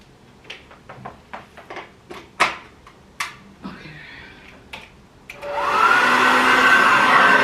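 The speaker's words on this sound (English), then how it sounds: "stick to the good old fashioned way of blow drying" A hair dryer switches on and blows steadily and loudly on hair, preceded by a series of sharp clicks and taps as it is handled.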